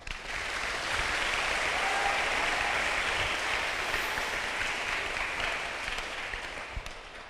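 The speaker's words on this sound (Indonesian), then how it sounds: "Tepuk tangan buat kalian semua." Students at a spiritual building training at MTs Sunan Drajat in Paciran, Lamongan, applaud together, a dense sustained roar of clapping lasting about seven seconds before slowly thinning out.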